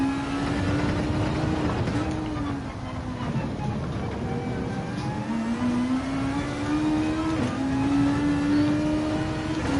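Toyota FT-1 engine in Gran Turismo 7 racing at night on a drying track, a sustained close whining drone that climbs and drops through repeated gear changes, with brief talk over it.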